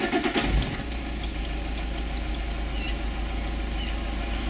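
A car engine cranks and catches in a brief burst at the start, then settles into a steady, close idle with no talk.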